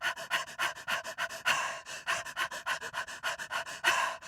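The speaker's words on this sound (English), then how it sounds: "But always the sound of the dog followed them." A dog pants hard and rhythmically in a story sound effect, a steady run of quick, loud breaths close up, as if it were chasing someone, with no voices over it.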